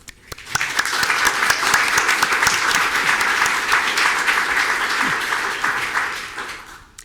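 A crowd applauds a line of city council candidates as they are welcomed at a League of Women Voters forum, steady sustained clapping that swells quickly, holds for several seconds and tapers at the end.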